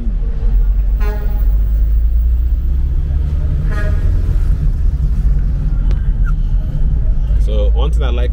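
On a Port Harcourt road in Nigeria, a big motor vehicle sounds its horn in a few loud blasts over a constant rumble of engines and traffic.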